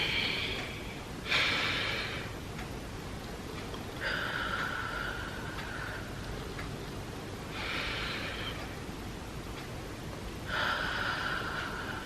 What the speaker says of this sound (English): inhale deeply through the mouth. At the same time, press your chest muscles inward. Exhale slowly.